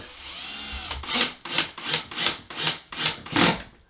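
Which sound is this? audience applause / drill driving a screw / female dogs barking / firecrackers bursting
drill driving a screw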